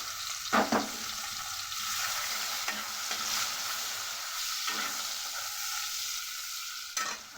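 Two bay leaves and a finely chopped small onion frying in oil, a steady close sizzle broken by a few scraping stirs and sharp crackles, with no one talking.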